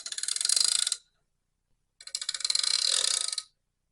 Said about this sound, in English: We can ratchet that, and I'll hold this in place.